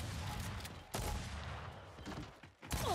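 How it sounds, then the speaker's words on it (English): Gunfire in Gears 5 rattles in a faint, steady stream of rapid shots with a couple of sharper cracks, fairly quiet and distant-sounding. "I am shooting fucking nerve bullets at people"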